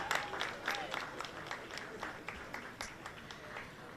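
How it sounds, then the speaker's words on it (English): A crowd at a Jamaica 60 reception in New York applauds the Prime Minister and Jamaica, steady scattered clapping heard at moderate distance in a room, fairly soft overall. "One more round of applause for our Prime Minister and Jamaica."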